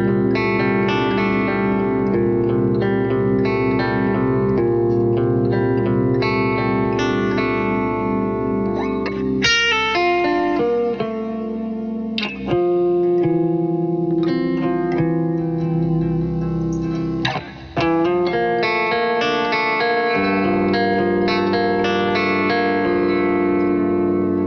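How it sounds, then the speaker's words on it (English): An Ibanez Xiphos Iron Label XPIR20E electric guitar on its bridge pickup plays bright, twangy clean chords and single notes continuously, with a lightly effected, chorus-like shimmer and no voices. "now it's time for some clean tones"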